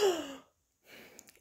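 A person makes a sharp, breathy gasp with a falling pitch, imitating a startled girl waking suddenly; the gasp is followed by a short silence, then some soft rustling.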